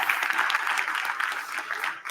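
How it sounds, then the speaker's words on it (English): Applause from the audience at a councilwoman's inauguration ceremony, a dense, steady wash of many hands clapping at close range that holds throughout and thins slightly near the end. "Yes, round of applause"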